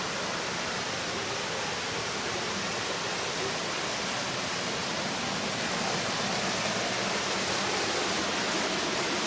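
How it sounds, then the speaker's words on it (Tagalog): Steady rushing spring water flows continuously from a mountain source at a nature resort, a full broadband gush close by with no voices. "Dito yung source ng tubig."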